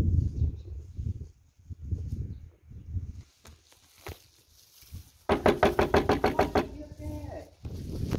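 Knocking on a house door by someone waiting to be let in for a family surprise: a rapid burst of about a dozen loud, close raps lasting a couple of seconds, following a stretch of talking.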